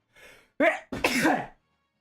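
A single person sneezes up close: a short intake breath, then a sharp explosive burst with a trailing exhale, loud and alone.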